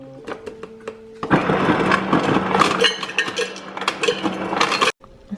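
Ice cubes clattering from a dispenser into a cup, a dense rattling burst lasting several seconds with sharp clinks, close and loud, then stopping abruptly.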